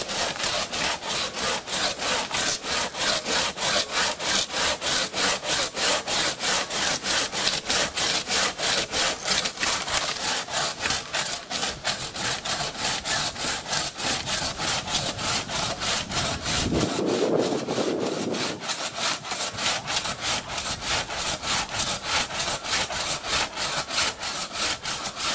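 A maple tree being cut by hand with a saw, the blade rasping through the wood in a steady, fast back-and-forth rhythm that runs close and loud without pause, with one brief deeper rustle partway through.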